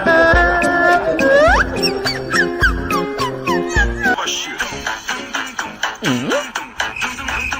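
A pet cat meows in a playful home setting while a person sings a children's song nearby; several drawn-out, pitch-bending meows rise and fall, some overlapping the singing voice, ending with a low, swooping yowl.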